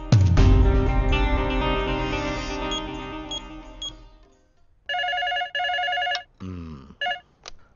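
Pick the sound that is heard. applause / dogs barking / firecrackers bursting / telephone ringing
telephone ringing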